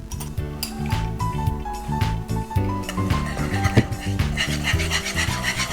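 A whisk scrapes and clinks steadily against a pot of dimer halua (egg halwa) mixture cooking on a stove over low heat, a close, continuous rhythmic rasping.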